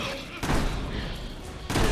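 Gunfire in Resident Evil 6 during a co-op session: two sharp, close bursts of shots a little over a second apart, with a dense rumbling bed in between.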